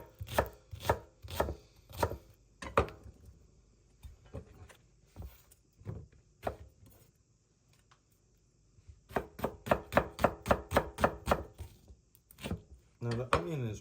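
A knife chops onion on a cutting board with close, hollow thunks. The strokes come in scattered groups, then a quick rhythmic run of about a dozen cuts near the end.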